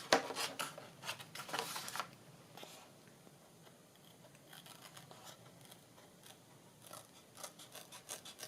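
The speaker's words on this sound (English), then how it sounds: "Just going to cut around this." Scissors snip around paper for a decorated autumn journal cover, quiet crisp cutting bursts and rustling paper near the start, then softer scattered snips and handling noises, close and fairly faint.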